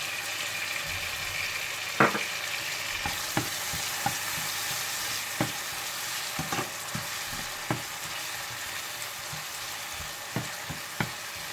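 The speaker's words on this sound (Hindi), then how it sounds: "आप इसमें चाप किया हुआ अदरक लहसुन डालकर मिला लें।" Chopped ginger and garlic frying on a tawa for masala kabab, a continuous close sizzle broken by several sharp spatula taps and scrapes spread through the stretch, with no one speaking.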